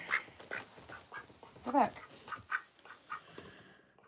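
Pet duck quacking in short, faint, scattered calls close by, mixed with soft talk from a woman.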